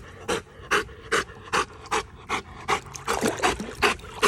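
A dog pants in steady, rhythmic bursts of breath while exercising in a pool, close and fairly loud, with faint water trickling in the background and no talk.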